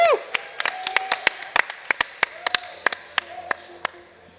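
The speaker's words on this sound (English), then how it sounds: "Let's go ahead and give them a round of applause once more, ladies and gentlemen." A small crowd at an MVM 2022 esports match gives sparse, distinct claps as the Royal Strive team comes out, with an announcer's voice faintly underneath.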